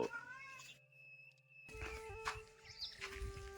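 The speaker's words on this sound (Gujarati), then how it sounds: "જો અમારો ટોમ બિલાડો કેવો બેસી ગયો છે" A tomcat meows several times in drawn-out, tonal cries, with a short quiet pause partway through and some faint background noise.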